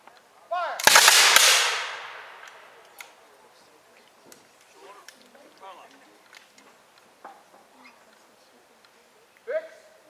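Revolutionary War re-enactors fire a musket volley: one loud, ragged blast at about one second that rolls off into a long decaying echo, followed by scattered faint crackles and distant voices.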